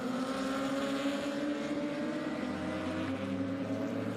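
Lotus race cars racing at the Nürburgring: a steady, loud engine drone at circuit level, continuous and slightly windy, with no talk.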